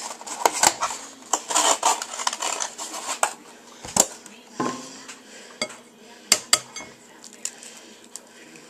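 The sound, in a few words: adding three eggs to Boston cream pie batter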